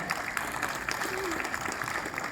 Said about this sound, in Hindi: मैं चाहूंगा एक बार इनके लिए जोरदार तालियां आप बजाएं